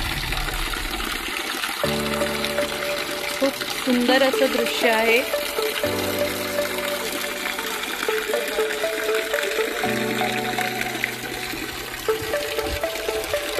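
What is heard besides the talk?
spring water flowing from a gomukh spout at a temple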